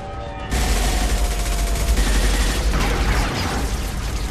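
A firefight in Mass Effect 2 erupts with dense, continuous gunfire after a brief quieter start, loud and close, with rapid overlapping shots and a heavy low rumble throughout.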